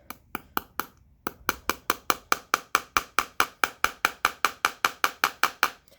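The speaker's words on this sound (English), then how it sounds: "when I'm hammering, it's not nearly as loud as it would be if I was up on my tables" A hammer drives nails into a board resting on the floor for string art, with quick, evenly spaced taps in a steady run of about four per second after a brief pause, close and crisp.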